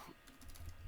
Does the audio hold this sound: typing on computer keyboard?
yes